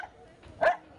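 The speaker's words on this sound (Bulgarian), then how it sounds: "Ако лаят други кучета, и тя ще лае." A dog that lives outdoors in a house yard gives a single short, sharp bark, close and fairly loud against a quiet background.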